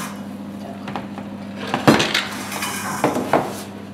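Metal utensil clinks and scrapes against a cooking pot as a poached bream fillet is lifted out, a few sharp knocks standing out over a low steady hum, close and fairly loud.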